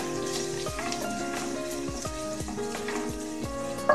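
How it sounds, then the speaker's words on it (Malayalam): Long-sliced onion sautéing in a pan for ghee rice, a continuous close sizzle with a series of rhythmic scraping or tapping strokes from a spoon, alone without speech. "ഞാനൊരു ചെറിയ സവാള നല്ല നീളത്തിൽ അരിഞ്ഞിട്ടുണ്ട് അതിട്ട് കൊടുക്കുക നല്ലപോലെ"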